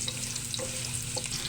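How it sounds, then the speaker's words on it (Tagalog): Diced garlic, onions and sliced ginger sauté in hot oil in a pan, a steady close sizzle with faint stirring scrapes throughout, no voices. "Magisa na tayo ng ating mga aromatics"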